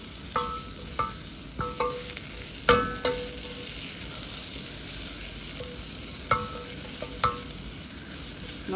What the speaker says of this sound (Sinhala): මේ නූඩල්ස් බදිනකොට අපි ගොඩාක් ගින්දර අඩුවේ තියාගෙන බදින්න ඕනේ.